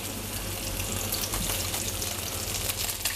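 Barracuda quenelles frying gently in a pan over low heat, a soft steady sizzle with faint crackles running throughout, close and continuous with no voices.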